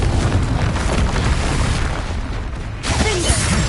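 A Confringo explosion spell in the video game Hogwarts Legacy bursts with a loud, dense boom and a rumbling blast that fills the short moment before fading into crackling debris.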